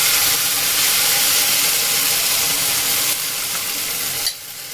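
Freshly ground spice paste fries in a hot pan, giving a loud, continuous hissing sizzle that drops off abruptly near the end.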